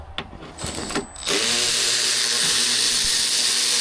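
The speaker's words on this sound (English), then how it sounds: "we're gonna take these two 13s out, holding the radiator and everything together" Two 13 mm radiator bolts coming out on a 2015 Ram 1500 5.7 HEMI, a few tool clicks and knocks before a loud, steady power tool whir takes over and runs continuously up close.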